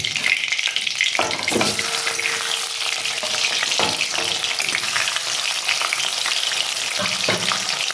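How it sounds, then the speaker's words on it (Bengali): Fish frying in oil in a pan for a Bengali fish curry with potato and pointed gourd makes a loud, continuous sizzle close by. Bursts of spitting and stirring scrapes come every second or two, with no speech. "আরও মাছগুলো আমি দিয়ে ভেজে নেব"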